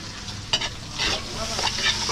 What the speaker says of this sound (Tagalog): Gigisa muna natin bawang sibuyas